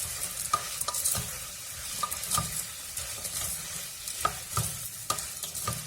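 Lentils are stirred in a pan over low heat, a quiet scraping and clinking of the spoon in repeated strokes over a faint gentle sizzle, close and steady with no talking.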